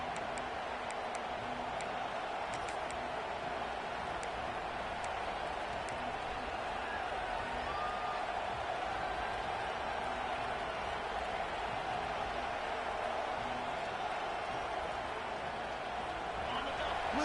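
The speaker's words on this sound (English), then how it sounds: "Listen to the crowd energy here in the early going." A large football stadium crowd at an Alabama versus Tennessee game produces a steady, distant roar, a constant broad murmur of cheering voices filling the whole stretch without sharp peaks.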